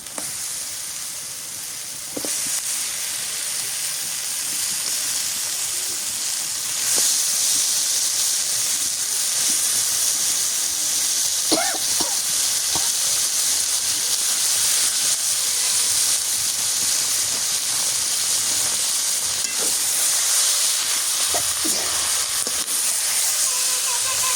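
Mutton pieces dropped into a hot pan for curry, a steady loud hissing sizzle running continuously with a few clinks of utensils, no talking.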